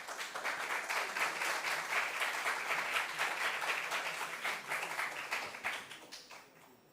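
A quiz audience applauds both competing teams at the close of the STEM round, a dense, steady clapping that holds for several seconds before tapering off toward the end.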